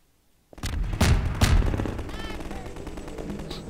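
Rocket launcher fire and blasts in the video game Half-Life 2: a few loud booming bursts in quick succession after a brief silence, then a rumbling decay.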